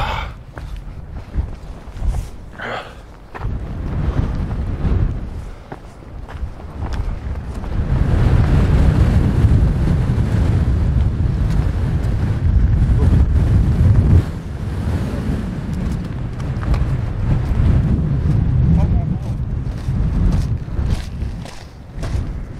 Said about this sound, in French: oh, le vent de fou.